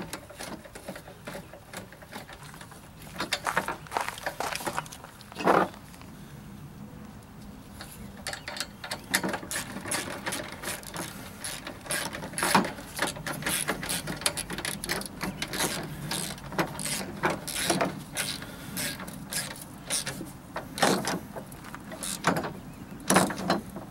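A ratchet wrench drives a bolt back into a generator, giving close, rapid clicking in repeated bursts with short pauses between strokes.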